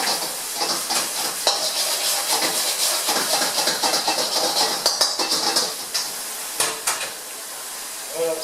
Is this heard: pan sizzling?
yes